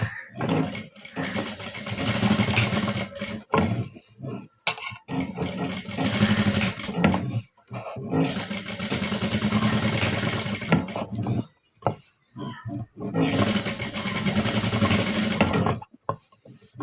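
A sewing machine stitches fabric in three long runs of steady, whirring mechanical chatter, each lasting a few seconds. Short pauses and small clicks separate the runs.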